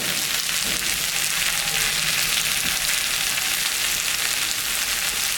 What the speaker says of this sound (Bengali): কাঁঠালটা ভাজা ভাজা হয়ে গেছে